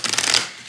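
Oracle card deck being shuffled by hand, a quick papery riffle burst that rises, then fades to a soft hiss, close and alone.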